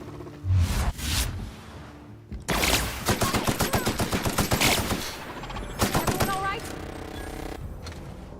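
Rapid bursts of automatic gunfire in the video game The Outer Worlds: Spacer's Choice Edition crackle in quick repeated volleys, with short pauses and whooshing effects between them, loud and close.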